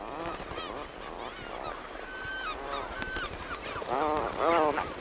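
A dense chorus of honking, groaning Atlantic puffin calls from a breeding colony on Skomer, overlapping one another, loud and busy throughout, rising into stronger bursts toward the end.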